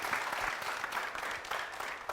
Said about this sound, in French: vous applaudir bien plus fort